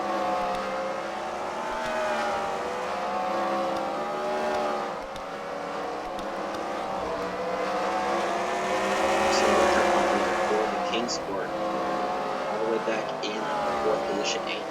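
Race cars circle a dirt track at a CWRL fight night, weaving through lapped traffic. Several engines drone and rise in overlapping pitch sweeps as they pass, with a commentator talking over the sustained roar.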